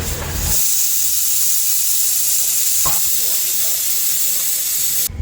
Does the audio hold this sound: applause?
no